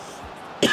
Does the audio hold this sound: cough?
yes